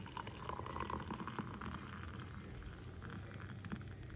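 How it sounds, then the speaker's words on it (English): Hot water poured into a cup over chocolate caramel to make hot chocolate, a steady, close liquid pouring and filling rush that runs without a break for about four seconds. "and then I pour in hot water."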